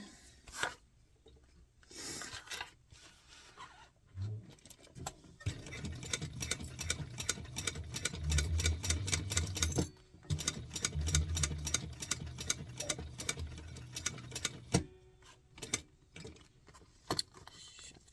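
A sewing machine stitches fabric pieces of a bowler hat together, running as a steady close whirring hum with a fast mechanical ticking. Short stops break the run, with softer handling rustles before and after.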